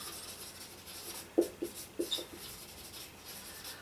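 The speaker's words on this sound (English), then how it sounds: "Michael Kramer, let me write it over here." Marker or chalk strokes on a board during an economics lecture make a few short scratchy taps in quick succession, faint and close over a quiet room.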